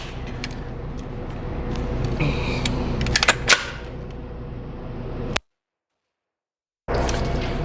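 A translucent PSA Scorpion magazine being pulled out of a gun with effort, heard as a few sharp plastic clicks and a snap over steady background noise, followed by a brief silence.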